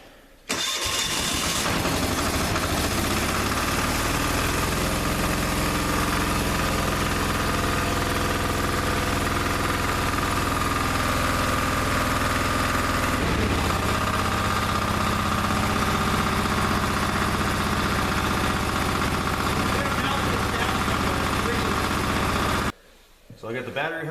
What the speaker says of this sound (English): we got both engines hooked up, full of fuel. Let's start them.